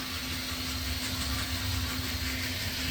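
Drive motor of an HO scale Bachmann Brill trolley model running noisily, a steady whirring hum with constant buzzy vibration, close and unbroken.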